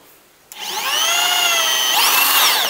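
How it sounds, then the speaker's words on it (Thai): A cheap electric drill bores into old wood: a close, loud, steady high motor whine that starts abruptly, holds for over a second, then shifts upward in pitch as the bit bites. "เดี๋ยวลองเจาะดู ก็ทดสอบไปเลยนะครับ ว่าเขาเจาะไม้โอเคหรือเปล่า"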